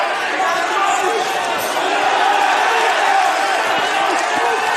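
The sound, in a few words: boxing crowd cheering during fight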